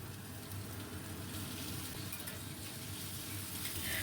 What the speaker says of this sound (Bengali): একটু সময় ধরে আমি এটাকে ভাজবো।